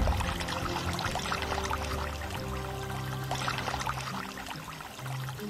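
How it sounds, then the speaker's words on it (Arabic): Water gushes steadily from a tap, a continuous close splashing pour with no voices. "شكلها ناسي الحنفية"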